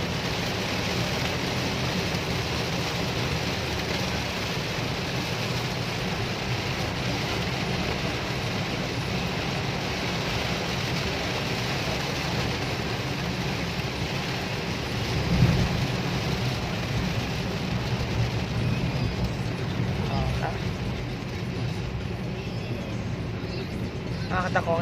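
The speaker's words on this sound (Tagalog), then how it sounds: "Kasi sobrang lakas ng ulan." Heavy rain pours steadily and loudly, with a low roll of thunder about two-thirds of the way through, constant and close.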